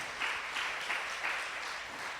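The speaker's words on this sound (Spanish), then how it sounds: "dale ese aplauso al Señor." A church congregation applauds, giving a brief, fairly faint burst of clapping in pulsing waves that settles within a couple of seconds.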